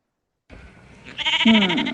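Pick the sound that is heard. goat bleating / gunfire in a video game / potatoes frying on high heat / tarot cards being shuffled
goat bleating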